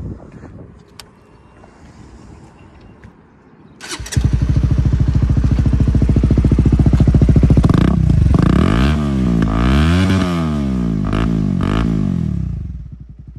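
A modified Honda CBR150R with an Acrobatic Hexa aftermarket exhaust fires up after a quiet stretch, then idles loudly and rumbles through several rising and falling revs close by before easing off at the end.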